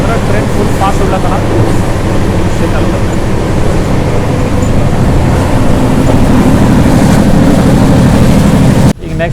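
Loud, steady rumble and rush of the VSKP-MBNR SF 12861 express train running fast after leaving Duvvada station, heard from on board as a continuous roar that drops briefly at the very end.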